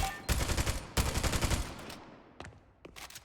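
Rapid automatic rifle fire in the shooter game Spectre, two loud sustained bursts of tightly spaced shots, then a few sparse single shots and fading echoes as the fire tapers off.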